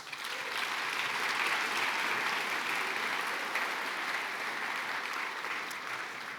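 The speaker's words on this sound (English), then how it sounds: "a round of applause." Audience applause fills a community celebration at a heritage awards event, a dense steady wash of many hands clapping that swells quickly and holds at full strength before easing slightly at the end.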